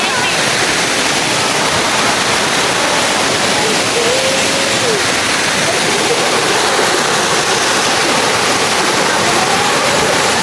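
Engkanto Falls, a waterfall whose loud, dense roar of falling water fills the scene continuously and evenly at close range, with a voice briefly audible underneath.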